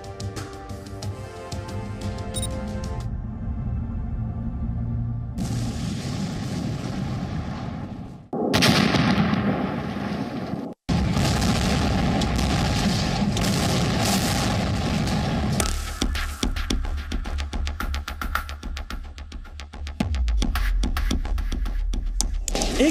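Heavy Russian missile and air bombardment in Ukraine with a continuous roar of booms and blasts, loud and sustained, with sudden cuts between shots.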